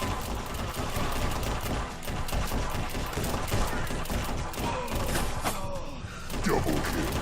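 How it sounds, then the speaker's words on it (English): Incoming gunfire in the Bulletproof VR shooter game, a dense fusillade of shots and impacts surrounding the player at constant loud intensity, with faint speech mixed in. "You can really hear those shots coming in towards you."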